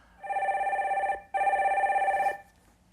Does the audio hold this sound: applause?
no